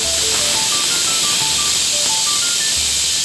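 Steam hisses steadily from a pressure cooker in a home kitchen after its whistle, a continuous bright rush with soft low thumps at regular intervals and a faint whining tone drifting upward.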